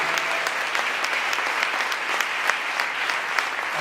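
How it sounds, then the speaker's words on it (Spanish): A church congregation applauds the Lord during a Spanish-language Sunday morning service, a thick, steady wash of many hands clapping at close range with no break and no voice on top. "Dale un aplauso al Señor"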